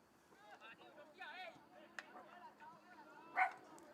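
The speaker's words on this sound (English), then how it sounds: "Got a fan barking in the stands. And I mean literally barking because it's a dog." A dog in the stands at an amateur soccer match gives a few faint, distant barks, with the loudest yelp near the end, heard under a commentator's voice and quiet crowd noise.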